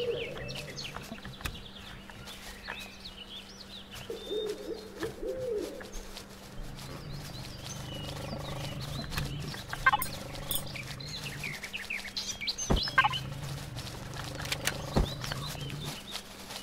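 Birds calling in the survival game Empyrion Galactic Survival, with soft coos and scattered chirps repeating at a moderate distance over a low ambient hum, some sharper clicks and knocks mixed in, no one talking.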